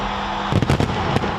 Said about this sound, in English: London's New Year's Eve fireworks became another example of people pushing past barriers to get in.